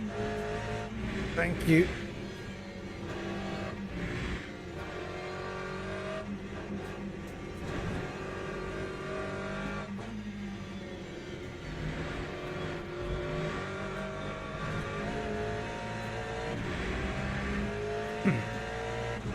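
A Porsche race car engine drones and revs throughout a race, shifting pitch with gear changes and occasional tire squeal, heard from the cockpit under a driver's and engineer's radio talk.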